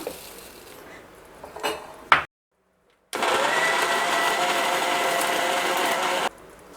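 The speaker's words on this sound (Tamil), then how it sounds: "இப்போ திராட்சையை நம்ம சேர்த்து நல்லா மிக்சி ஜாரில் அடிச்சுக்கலாங்க" Mixer grinder blending grapes with sugar in a home kitchen: after a few clattering jar knocks and a brief silence, the motor roars in a steady, loud whir for about three seconds, then stops abruptly.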